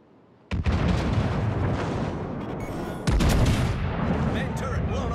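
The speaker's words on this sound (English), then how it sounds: "Main turret blown up." A ship's main turret blows up in World of Warships: Legends: a sudden loud blast bursts in, then a sustained heavy roar of fire and explosions, with a second powerful boom about halfway through.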